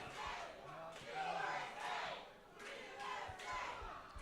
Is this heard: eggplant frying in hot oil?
no